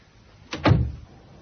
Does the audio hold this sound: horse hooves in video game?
no